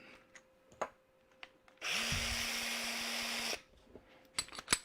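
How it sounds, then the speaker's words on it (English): A power drill bores into wood for a pug and French bulldog bowl stand, one steady whirring burst of about two seconds with a rising motor whine, set between quieter workshop knocks. "Let's drill the other end."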